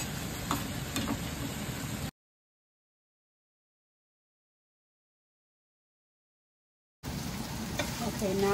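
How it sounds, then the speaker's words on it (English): Chilies and onions sauté over medium-low heat in a pan, giving a steady soft sizzle with faint ticking and stirring. The sound runs for about two seconds, cuts to silence for five, then returns at the end. "We're gonna add our chilies and our onions and saute until they're soft"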